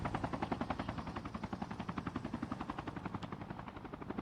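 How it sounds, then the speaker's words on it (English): Two helicopters in a Call of Duty Mobile battle royale match give off a rapid, steady rotor chop that pulses evenly throughout, moderately distant and without talk. "That might be 2 helicopters."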